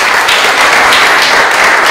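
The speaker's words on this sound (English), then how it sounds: "So let's give them all a big round of applause" A library summer reading club crowd applauding volunteers, steady dense clapping filling the room throughout without a break.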